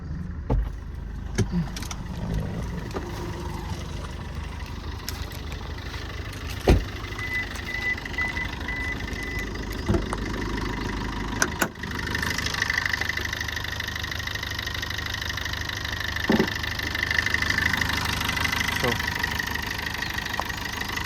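A 2019 Maruti Brezza ZDi+ diesel engine idles steadily with a low, even rumble throughout, with occasional clicks and knocks, while a person talks over it.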